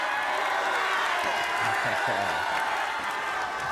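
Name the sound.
football game crowd cheering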